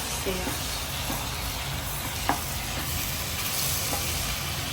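Chicken being stirred in a hot pan with coriander powder and garam masala, giving a steady, faint sizzle and hiss with a few soft scraping clicks of the spoon.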